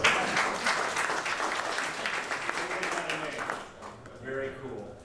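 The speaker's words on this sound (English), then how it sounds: "You give yourselves a round of applause." An audience applauds at a 2014 recognition ceremony for certificate recipients. Dense, steady clapping fills most of the clip and then fades out toward the end.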